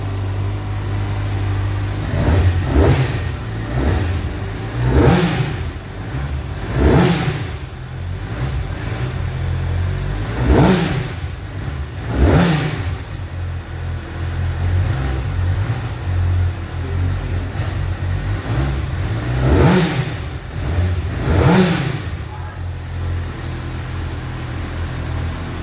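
Kawasaki ZX-6R 40th Anniversary Edition motorcycle engine revving repeatedly, sharp high-rpm blips rising over a steady idle in roughly paired bursts, loud and close with no talking.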